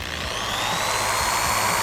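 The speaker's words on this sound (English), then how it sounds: "we're gonna give it a standard sanding" A variable-speed power sander from Lowe's runs in a steady, loud, close whine with a buzzing motor hum, continuous throughout with no talking.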